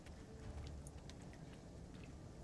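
Rain falling in the video game Dragon's Dogma 2, a soft, steady patter of drops with occasional sharper taps, faint and continuous with no talk.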